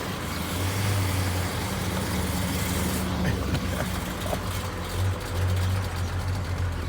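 A parked car's engine idles steadily and close by, a low continuous rumble with a brief rise in revs partway through and a little background noise around it.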